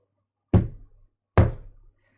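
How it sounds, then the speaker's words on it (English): Two heavy knocks on a house's front door land about a second apart. Each is a loud, close, hollow thud with a short resonant tail, set against silence. "A third knock sounded through the house"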